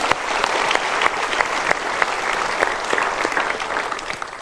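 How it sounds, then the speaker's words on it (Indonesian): Applause from a studio audience at an Indonesian motivational talk show, loud and sustained, with individual claps standing out crisply from the steady roar of hands. "kita berikan tepuk tangan dulu"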